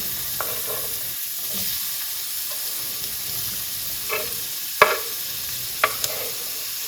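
Onion added to hot extra virgin olive oil in a pan, a gentle continuous sizzle and hiss with a few sharp clinks and scrapes of stirring, close by and moderately quiet.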